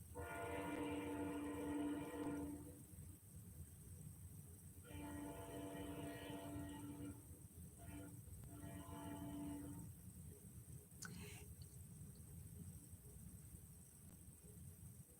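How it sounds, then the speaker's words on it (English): A train rumbles past outside, a low continuous roar throughout with long horn blasts in the first ten seconds, heard somewhat distant and indoors. "That would be the train."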